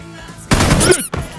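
Video game gunfire: a loud, dense burst of rapid automatic shots lasts about half a second. A short second burst follows it, and there is no talking.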